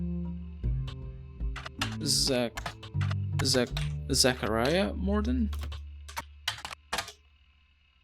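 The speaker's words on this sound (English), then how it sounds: "Am I not typing this right?" Keys clack in quick irregular bursts on a computer keyboard while a person talks over them, with brief pauses between runs of typing.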